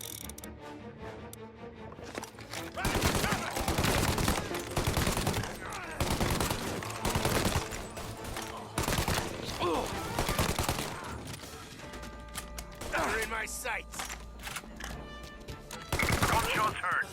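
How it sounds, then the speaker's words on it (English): Rapid bursts of gunfire from the video game Mafia: Definitive Edition, loud and repeated across most of the stretch, with shots overlapping and a brief line of speech in the middle. "Gunshots heard."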